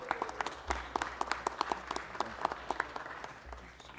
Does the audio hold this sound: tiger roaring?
no